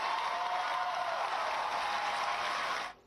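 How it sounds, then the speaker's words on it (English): Thunderous applause from a large audience at a political speech, a dense, steady wash of clapping that holds at full strength for about three seconds and then cuts off abruptly. "They get this thunderous applause."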